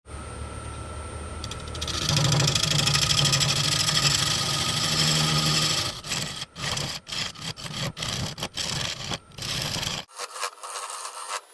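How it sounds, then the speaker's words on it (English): A bowl gouge cuts into a dense live oak bowl spinning on a lathe, giving a loud, steady rasping tear for several seconds that breaks into short, choppy bursts of cutting before stopping. "I'm gonna put a bow gouge on this thing and see what it does"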